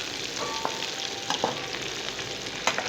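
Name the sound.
stirring mixed vegetables frying in a pan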